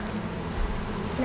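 Worker honey bees hum steadily around an opened hive while smoke is puffed over extra burr comb, a dense close drone with faint voices in the background.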